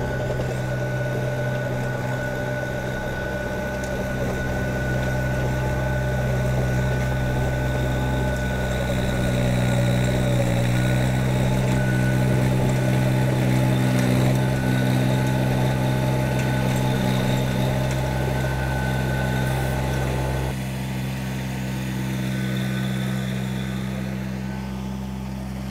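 A Kubota BX subcompact tractor runs a rear tiller through garden soil, its diesel engine droning in a steady, loud, close hum with constant vibration and no talk throughout.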